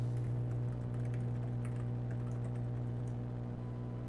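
Soft, irregular keyboard typing clicks over a steady low electrical hum, with no talking.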